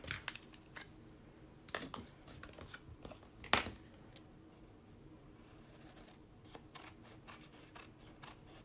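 Scissors cut through a section of card for card making. Quiet, scattered crisp snips and clicks sound in an irregular rhythm against near silence.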